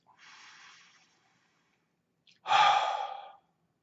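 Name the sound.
deep breath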